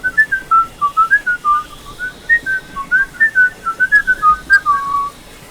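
A person whistles a theme tune, a bouncy, clearly pitched melody of short, separated notes delivered close and alone without talk.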